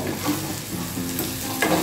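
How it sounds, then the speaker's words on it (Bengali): Onions sizzle and crackle in a hot pan with black cumin seeds while a spoon stirs them, close up and brief. "এবার এটাকে ভালো করে ভেজে নেব।"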